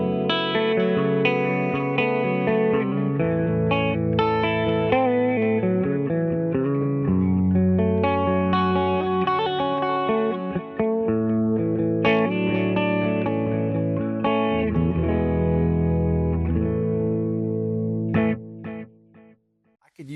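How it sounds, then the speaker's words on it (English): A guitar played through a tape flanger preset on a VP4 modeler gives sustained chords and notes that swirl with a sweeping, chorus-like wobble. It plays steadily and loud for about eighteen seconds, then fades out. "This is a tape flanger, which really you're thinking about this Roland Space Echo chorus flanger kind of a thing."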